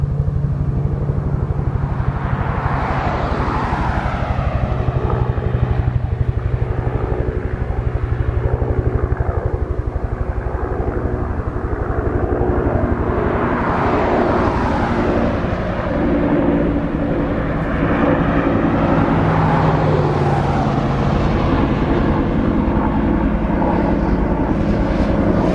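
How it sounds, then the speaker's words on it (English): Loud rumbling helicopter engine noise swelling and fading in repeated waves as it passes overhead during the 2020 El Dorado wildfire in Yucaipa, California, dense and continuous with no voices. "Could be a news helicopter, I'm not sure,"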